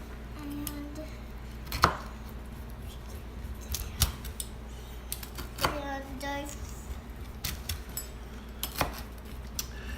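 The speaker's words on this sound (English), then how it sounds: "let's cut up this pizza and we'll give it a try" A homemade pizza being sliced, with several sharp, crisp cutting crunches spaced irregularly across the clip, close and fairly loud over a low background hum.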